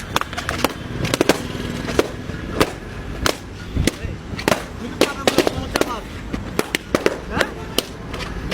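Firecrackers going off in a rapid chain, sharp loud bangs in an irregular string at close range, with some crackling between the bursts.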